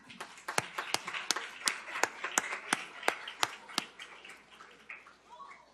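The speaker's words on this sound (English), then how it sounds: "Another round of applause, please." Audience members clap at a Pembroke Pines city commission meeting. The claps are sparse, loose and uneven, spreading through the room for several seconds before fading, with some murmuring underneath.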